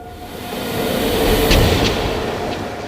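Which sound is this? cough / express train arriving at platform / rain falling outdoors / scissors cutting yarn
express train arriving at platform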